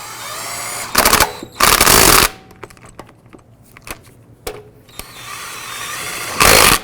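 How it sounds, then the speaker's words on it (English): An impact wrench snugs lug nuts on the front wheel of a 2004-2009 Dodge Durango in a garage, with three loud rattling bursts of hammering, two close together near the start and one at the end, separated by quieter handling noises. "Then we're going to go ahead and snug up the lug nuts."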